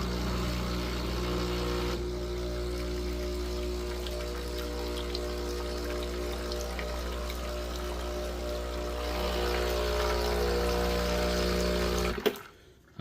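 A Breville Barista Express espresso machine runs an empty shot, a steady pump hum with water hiss that continues unbroken before cutting off with a click near the end.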